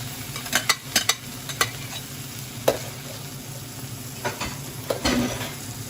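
Eggs dropping into a dry, hot steel pan beside spinach and pushed-aside meat: soft sizzling under a scattering of sharp utensil taps and scrapes, sparse and irregular, close by, with no voices.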